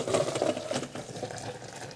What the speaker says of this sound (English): So I'm going to go ahead and get rid of the water.